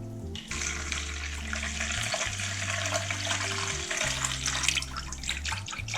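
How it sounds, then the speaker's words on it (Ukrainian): Warm water runs steadily into a dough bowl, a continuous splashing stream with a low hum underneath, no voices. "Додаю пів літри води тепленької."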